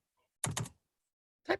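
A few sharp keyboard clacks in a quick burst, then a pause and another short burst of keystrokes, close and fairly quiet.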